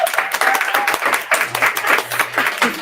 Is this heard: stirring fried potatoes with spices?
no